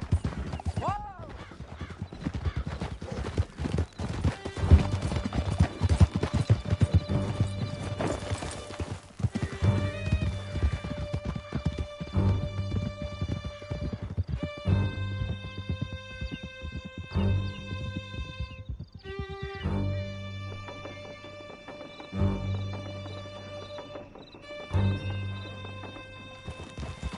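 Galloping horse hooves in Red Dead Redemption 2 pound in a steady rapid clip-clop through a canyon escape, with whinnies, game music and shouted talk over the ride.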